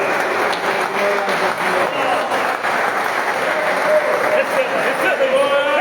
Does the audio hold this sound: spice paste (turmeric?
no